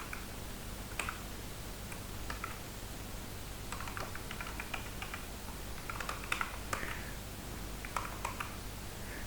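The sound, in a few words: typing on a computer keyboard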